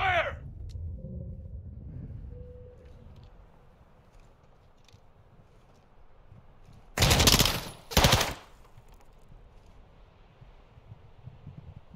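Machine gun fire in the video game Modern Warfare 2, heard as two short, loud bursts close together, preceded by a quiet rumbling stretch with no talk.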